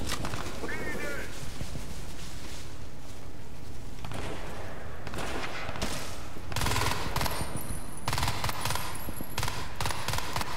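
Sustained gunfire from weapons in the Crysis 3 video game, dense rapid bursts and heavy shots layered over loud game noise and explosions, close and continuous.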